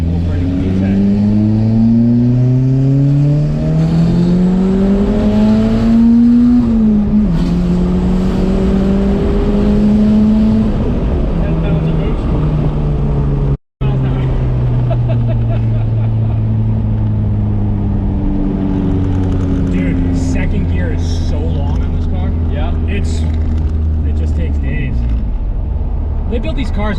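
A Porsche 996 with a swapped Honda K-series engine pulls hard while driving, its tone sweeping up through long gear stretches, dipping briefly at a shift, then climbing again, loud and close, with voices speaking over the engine.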